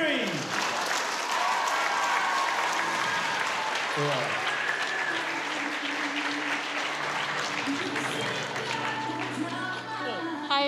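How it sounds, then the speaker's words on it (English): Audience applause at a conference in Taranaki: sustained, steady clapping from a roomful of people that stays loud throughout, with a brief spoken word near the end. "let's give a massive round of applause for Erica Perry."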